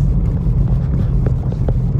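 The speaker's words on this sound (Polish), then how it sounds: "Wieje strasznie silny wiatr, który spycha nas z drogi." Strong wind roars and buffets the microphone in a continuous low rumble, with an Opel Corsa's engine droning underneath on the road to Nordkapp, and no talking.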